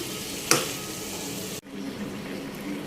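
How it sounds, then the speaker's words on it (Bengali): Potatoes fry with spices in a pan, a soft sizzle with a brief louder burst of stirring early on and a short drop before the frying resumes at a lower level. "তো আগে আলুটাকে একটু মশলা দিয়ে ভুনে নিচ্ছি"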